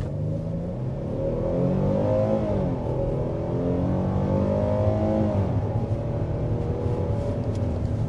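A 2023 Hyundai Palisade with a V6 engine accelerates hard to 60 mph, heard from inside the cabin as a steady, rising engine drone that swells through the gears under constant road noise.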